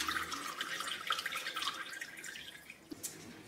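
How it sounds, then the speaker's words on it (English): Water pouring and dripping through a potted hanging plant during a thorough watering, a continuous close splashing trickle with scattered drips, no talking. "I am today going to take it out and just give it a really good water through."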